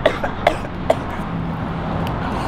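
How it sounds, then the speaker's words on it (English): A few short, sharp coughs from a man at a birthday surprise, three quick bursts in the first second, then a low background hum. "I'm just coughing"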